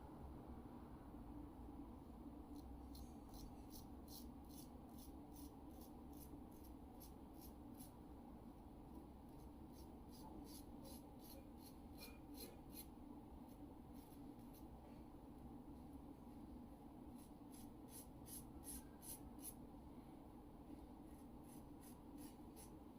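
A razor scrapes against the grain in short, rapid strokes, close and quiet, in two bursts of repeated rasping passes over a faint steady background hum.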